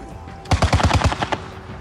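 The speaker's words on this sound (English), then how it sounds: "Shelling and grenades are flying at civilians." Gunfire during shelling of the city of Enerhodar in Zaporizhzhia oblast in wartime Ukraine: a rapid burst of about eight loud, close shots followed by a couple of separate cracks, no speech.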